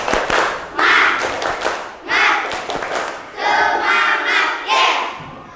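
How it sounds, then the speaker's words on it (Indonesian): A school class of children performs the 'tepuk semangat' clapping cheer, with rhythmic claps mixed with loud shouted chant phrases from many young voices, in bursts separated by short pauses. "sekarang kita tepuk semangat dulu ya"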